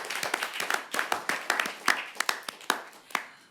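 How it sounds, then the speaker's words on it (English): Audience applause for students at a semifinal debate tournament: a steady patter of many hands clapping at moderate loudness, with irregular sharper claps standing out, continuing throughout without speech. "Let's give a big round of applause to our students."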